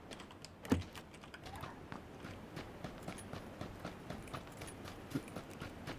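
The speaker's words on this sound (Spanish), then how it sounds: "Escucho pasos, soy tú." Faint footsteps in a video game tap out a steady, light rhythm alongside clicky keyboard-like noises, quiet and close throughout.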